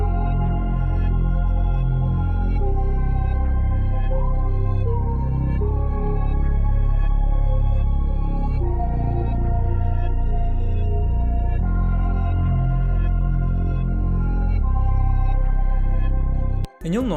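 Dark, layered synth melody built in FL Studio over a deep Serum sub bass, dense overlapping notes moving in close half-steps, sustained and loud until an abrupt cut at the very end.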